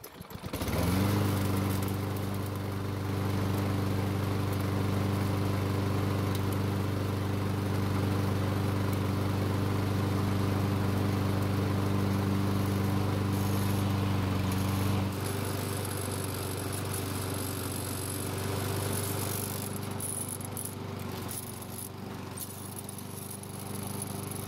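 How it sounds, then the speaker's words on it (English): A Lawn-Boy self-propelled lawn mower engine starts and runs at a steady, loud drone close by, its tone shifting slightly partway through as the running continues without any talk. "The first thing I want to do is start the mower and show you the problem."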